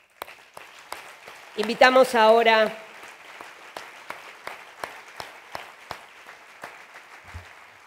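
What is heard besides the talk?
audience applause at film festival ceremony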